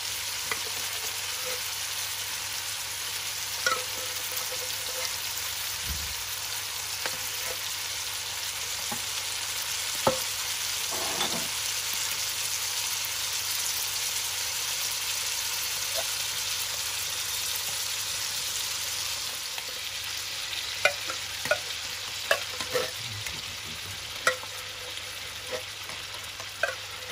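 Banana blossom simmering in coconut milk hisses and sizzles steadily in a pan, with soft scrapes and clacks of a spoon stirring now and then, close and continuous, no voices.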